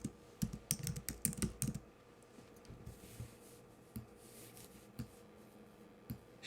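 Someone types a word on a computer keyboard while designing a greeting card, a quick close burst of key clicks followed by a few scattered single taps at a soft level.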